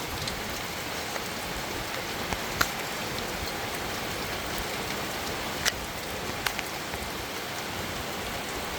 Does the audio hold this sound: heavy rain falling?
yes